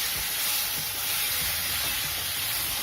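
Eggs dropped into masala that is frying in a pan for restaurant-style egg curry, giving a steady, close sizzle and hiss with a few soft clatters and no voices.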